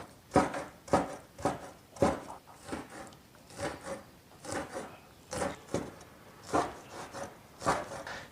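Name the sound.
knife cutting cured pork on a wooden board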